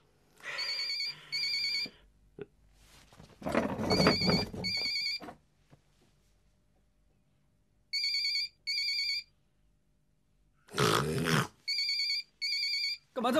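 An unanswered mobile phone rings in a TV drama scene. Its electronic ringtone sounds in repeated bursts separated by pauses of silence, with a faint dog whimper between the rings and no talking.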